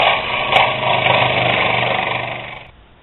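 A power tool cuts the ends off a homemade micarta slab, giving a steady loud high-pitched whine and grinding buzz that runs nearly three seconds before cutting off abruptly.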